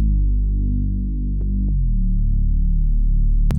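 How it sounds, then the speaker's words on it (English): A Reese bass synth patch, a heavily detuned saw wave with filtering and saturation, drones as a deep, thick, throbbing low note with slow phasing movement, loud and sustained, with a couple of faint clicks. "That's all I would do for a Reese bass."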